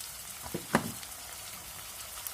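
Chopped onion frying in oil produces a low, steady sizzle, with a few brief clatters of utensil against the pan near the start.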